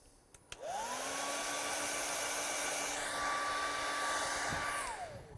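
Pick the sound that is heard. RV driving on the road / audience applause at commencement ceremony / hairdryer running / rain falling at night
hairdryer running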